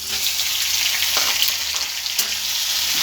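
Crabs fry in a pan of hot oil with bay leaf, dried chilli and whole mustard seeds, giving a loud, continuous close-up sizzle with faint crackles throughout.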